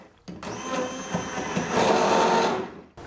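A blender whips chocolate vegan ice cream mass with ground nuts and brewed coffee, starting abruptly and running with a loud, steady whirring drone that deepens before cutting off.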